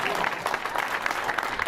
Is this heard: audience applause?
yes